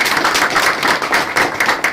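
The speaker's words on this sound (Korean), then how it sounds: "다시 한번 뜨거운 박수 드리겠습니다." Warm applause from party members at a political tea meeting in Dongnae, Busan, with dense overlapping clapping close by that rises and falls in waves, and no one speaking.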